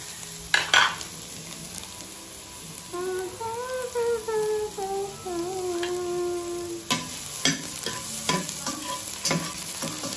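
Garlic sizzles steadily in a hot pan for chicken adobo made with native chicken, under repeated scraping and stirring clinks of a utensil, with a brief sung or hummed melody rising over the frying midway.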